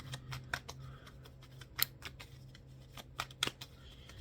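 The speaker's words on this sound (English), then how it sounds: "Let me shuffle these cards." Tarot cards being shuffled by hand, a run of crisp riffling flutters and soft slaps in uneven bursts, close and fairly quiet against a faint low hum.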